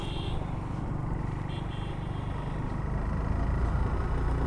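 A motorbike rides a hill road near Thanchi on the way to Tindu, a steady close engine drone mixed with wind rumble that grows slightly louder, no talk.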